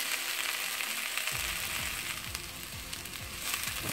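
Leeks and onions browning in a hot pan, a close, steady sizzle with a rhythmic scraping of stirring that starts partway through and repeats every half second or so.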